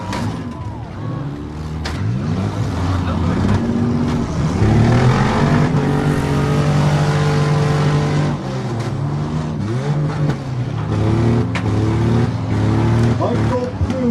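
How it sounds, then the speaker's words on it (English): Demolition derby cars revving and roaring around the track at a fall show in Ottertail, Minnesota, with engines rising and falling, tyre scrubbing and crunching impacts from a pile-up, loud and continuous under an announcer's commentary. "And now a spin, and a pile up in turn 4."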